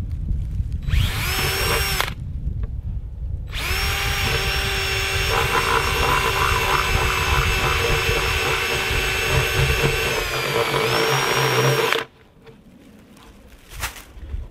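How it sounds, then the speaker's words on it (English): A power drill whines loudly in two bursts while drilling small holes into a maple tree, a short spin then a long sustained run, its pitch dipping slightly under load before stopping. "I'm just going to drill a hole"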